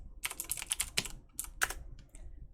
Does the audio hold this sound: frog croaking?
no